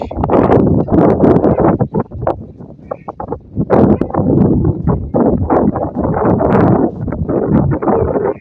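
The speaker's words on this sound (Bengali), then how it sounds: "দেখতে পাচ্ছেন কতটা বাতাস।" Strong wind blusters through trees, roaring in loud, uneven gusts that buffet the microphone, with rustling throughout and a voice faintly in the mix.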